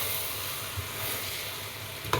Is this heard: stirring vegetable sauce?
yes